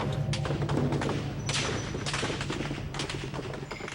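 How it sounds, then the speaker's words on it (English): Dense bursts of heavy army gunfire with live ammunition crackle and pound continuously during the Tiananmen crackdown, loud and close, with repeated volleys and no talking. "you just hear this thunderous sound of gunfire"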